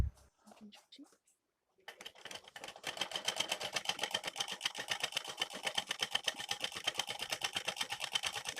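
An electric sewing machine stitches a folded hem on a lungi, starting with a few hesitant thumps, then settling into a fast, even rapid-fire chatter of needle strokes, close and steady.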